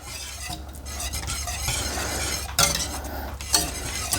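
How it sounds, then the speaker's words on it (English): A spoon stirs shredded sharp cheddar cheese into a pot of scalloped potato sauce, scraping and clinking against the pot with a soft sizzle underneath and a couple of louder knocks. "And we're going to add in 1 cup of sharp cheddar cheese, which I have right here. And we're going to go ahead and stir that in."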